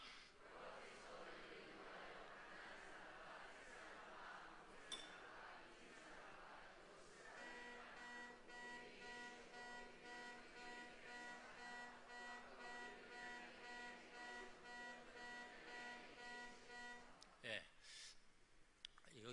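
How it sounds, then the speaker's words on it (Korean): A steady electronic alarm bell rings continuously for many seconds, moderately loud, during a church sermon, with the pastor speaking underneath it. "아주 적절하게 벨이 울렸습니다. 알람이죠."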